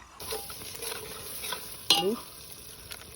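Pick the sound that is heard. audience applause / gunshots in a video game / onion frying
onion frying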